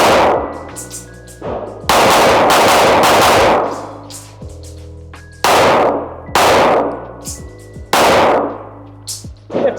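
A Glock 43X fed from a PSA Dagger Micro magazine fires several loud, sharp shots at uneven intervals outdoors, each crack followed by a ringing echo and metallic clatter.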